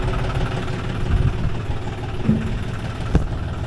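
A tractor engine idles steadily nearby with a low, rumbling drone and slight knocking, no talk over it.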